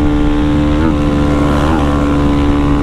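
A Start 190 motorcycle engine drones loudly and steadily up close, its even, buzzing tone rising slightly a couple of times as it pulls with the throttle held open.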